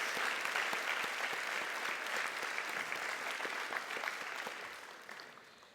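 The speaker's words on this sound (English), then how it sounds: "Let's give them a round of applause to show our appreciation for everything they've done for us." A banquet audience applauds faculty and staff at a senior class dinner, with dense sustained clapping from a large crowd that holds steady and then tapers slightly toward the end.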